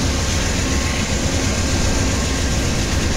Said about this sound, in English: Just around the corner was Lily and her passenger train, the Lakeshore Limited.